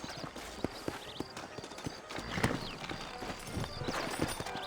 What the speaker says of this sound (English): You ain't gonna find sturdier horses than these in all of New Austin.